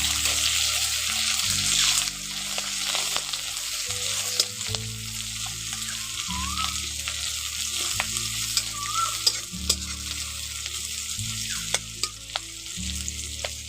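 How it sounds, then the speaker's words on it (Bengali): Chopped onions with whole cumin seeds fry in hot oil in a home kitchen, a steady close sizzle broken by regular scraping stir strokes every second or so, with no voices. "পেঁয়াজটাকে একটু ভালো করে ভেজে নেব।"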